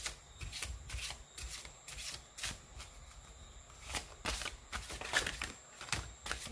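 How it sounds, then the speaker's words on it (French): Tarot cards are shuffled by hand in quick, papery bursts that repeat at an uneven rhythm, close and fairly quiet, with no talking. "je vous laisse vous concentrer 2 ou 3 minutes pendant que je brasse les cartes."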